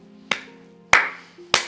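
Three sharp, separate hand claps, close and loud, spaced roughly half a second apart, over a faint steady background hum, in a Gujarati family drama scene.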